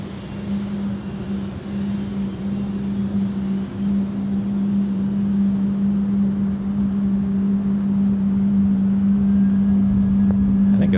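An airplane at LAX makes a weird noise, a steady droning hum with a strong low tone that grows gradually louder over a rumbling background, continuous and unbroken.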